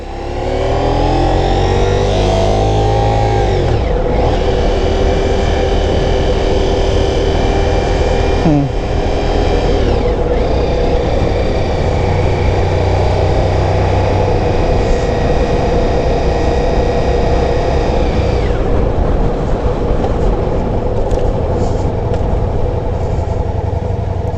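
A Ducati Diavel V4 motorcycle engine runs loud and close throughout, its tone shifting and rising in steady harmonic sweeps as the bike pulls away and rolls on, with no talk.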